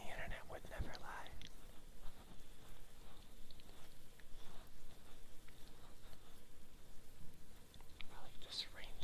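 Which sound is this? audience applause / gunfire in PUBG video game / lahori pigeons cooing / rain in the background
rain in the background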